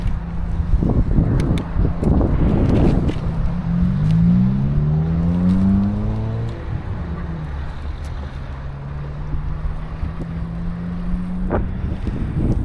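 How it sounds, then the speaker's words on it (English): A car on a street, heard from a bicycle in spring traffic, its engine rising in pitch as it accelerates and then holding a steady hum under constant road and wind noise, with no talking. "Or maybe the car is stopping."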